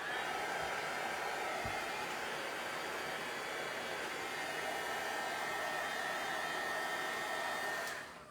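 Hair dryer blowing on wet ink, a steady broadband whoosh that runs nearly unbroken for eight seconds before fading at the end, with no talking over it.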